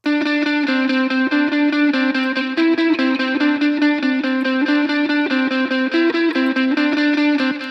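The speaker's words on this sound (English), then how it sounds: "we have a reverb inserted directly onto this guitar" Electric guitar playing a steady rhythmic pattern of repeated notes, thick with delay, reverb and chorus effects, loud and continuous with no voices.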